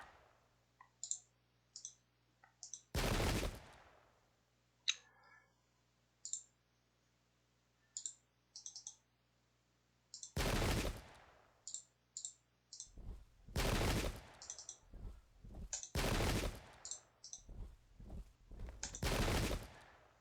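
Massed musket volleys from Royalist and Parliamentarian infantry in the Pike and Shot strategy game crash out as loud, rolling bursts, first isolated and then in rapid succession, interspersed with soft mouse clicks.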